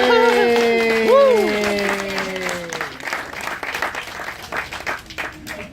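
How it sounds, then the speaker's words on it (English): Audience applause at a wildlife show at Gator Park, a broad wash of clapping under an announcer's voice and some whooping or whistling early, fading after a few seconds into scattered noise. "Applause for the alligator."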